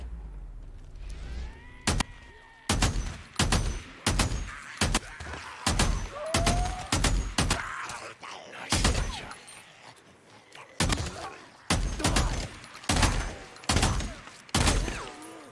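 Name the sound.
MG45 gunfire in the video game Days Gone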